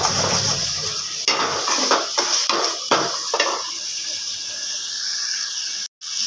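Potatoes sautéing in a pan while a utensil scrapes and clanks against the metal a few times, then the steady frying continues alone.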